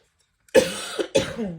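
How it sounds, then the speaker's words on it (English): Two harsh coughs in quick succession from someone getting over a cold, close and fairly loud, with no talking around them. "And I apologize for coughing, I'm getting over a little bit of a cold."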